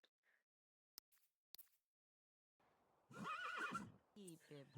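A horse in The Sims 3: Showtime lets out a loud, close whinny after a few scattered short clicks and soft game sounds, with a second, choppier burst of sound right after.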